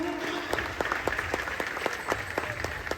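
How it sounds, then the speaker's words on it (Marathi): An audience at a ceremony marking Chhatrapati Shivaji Maharaj's coronation anniversary claps for a mridangam player, a brief, steady round of applause from a moderately close crowd. "एकदा त्या मृदुंगासाठी टाळ्या होऊन जाऊ दे."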